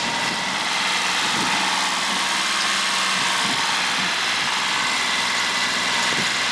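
A two-wheel-drive tractor engine idling steadily and loudly nearby, a continuous low rumble with a faint rattle throughout.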